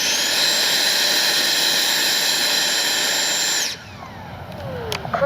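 Loud, steady high-pitched whine of a small jet turbine on an FMS Avanti S 90mm RC model jet roaring for several seconds, then cutting off and spooling down with a falling tone.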